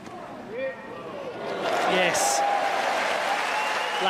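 Applause rises from the crowd at a wheelchair tennis match, swelling from scattered claps into a sustained, fairly loud ovation over a commentator's speech.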